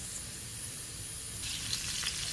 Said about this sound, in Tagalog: Pagka golden brown po ng luya, lagay ko yung sibuyas.